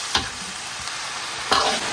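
Chicken heads are stir-fried in a wok with chilies, frying with a steady sizzle and two sharp scraping clatters of the spatula tossing them; no talking.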